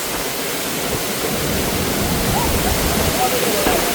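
Strong current rushing over a hidden waterfall, a dense, steady roar of churning water that fills the whole scene, with faint voices underneath.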